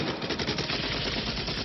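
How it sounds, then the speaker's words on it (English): Rapid machine gun fire from the Rambo: The Force of Freedom game rattles in a steady, dense burst throughout, loud and continuous with no talking. "Wow, look at the gunfire."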